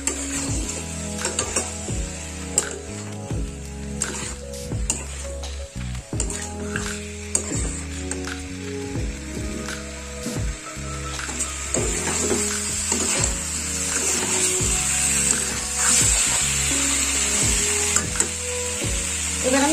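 Pumpkin curry sizzling in a pan while being stirred, a loud, close sizzle broken by steady, repeated scraping strokes of a spoon against the pan, continuing throughout.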